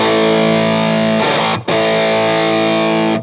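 Providence Stampede DT distortion pedal with its bass knob turned down, giving a loud, sustained distorted guitar chord that rings alone, is re-struck once partway through and cuts off cleanly at the end.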